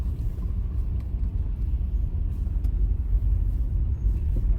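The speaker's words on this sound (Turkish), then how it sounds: "Trafik yoğunlaşıyor bu arada." Steady low rumble of road traffic on a city street in Antakya, Hatay, with engines droning continuously at close to moderate distance and no distinct individual pass-bys standing out.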